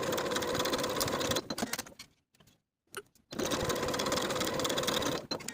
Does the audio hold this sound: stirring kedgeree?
no